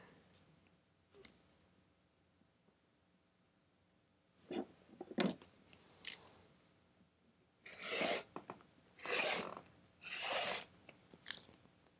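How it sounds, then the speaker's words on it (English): Scissors trim the selvage edges from quilt border fabric in bursts of crisp rasping snips, a few quiet cuts early and then several louder ones close by, with no talking. "It's like cutting the selvages off right here."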